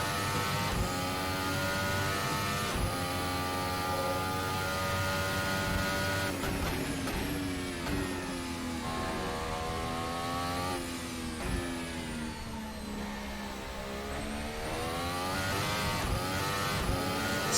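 A Formula 1 car engine in a racing video game at the British GP screams through rising and falling revs, its high harmonic whine climbing under acceleration and dipping through gear changes, steady and loud throughout.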